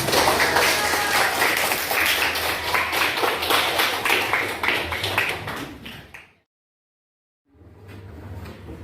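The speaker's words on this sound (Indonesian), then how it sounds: "Ya, tepuk tangan untuk kita semua." A classroom group claps hands together in a loud, sustained burst that fades out into a short silence, then resumes more quietly near the end.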